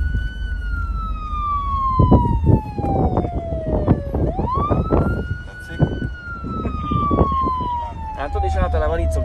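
A police car siren wails steadily from inside the moving car, its pitch sliding down and back up in a long sweep over engine rumble, with voices talking throughout.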